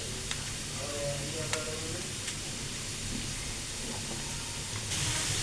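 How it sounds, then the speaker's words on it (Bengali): French fries frying in hot oil give off a steady, close sizzling hiss with scattered small pops and crackles, continuing evenly throughout with no voices. "তো এদিকে আমার ফ্রেঞ্চ ফ্রাই কী অবস্থা, কী থাকে, মাশাল্লাহ অনেক সুন্দর করে ভাজা ভাজা হচ্ছে"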